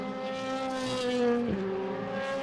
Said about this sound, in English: Down through the gearbox. Heavy, heavy braking.